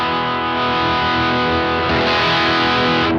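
Electric guitar through a Red House Electronics Eagle Feather overdrive pedal used as a clean boost with no pedal gain, sustained driven chords ringing loud and steady, re-struck once near the middle, with no voices.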